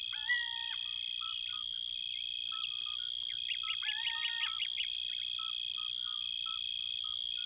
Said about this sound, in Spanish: Es el reino de un pequeño grillo de arbusto que brilla como una esmeralda, el Eupholidoptera.